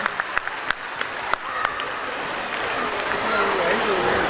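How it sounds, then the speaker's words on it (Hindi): An audience at a school convention ceremony claps, starting with a few scattered claps and swelling into steady, dense applause from a hall full of people. "भरपूर ताली होनी चाहिए बेटा सबके लिए।"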